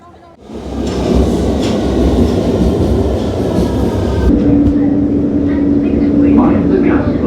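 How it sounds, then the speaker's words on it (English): A London Underground Victoria Line train running, a loud continuous rumble and roar with a steady whine joining partway through, with a voice heard over the noise. "This is a Victoria Line train to Walthamstow Central."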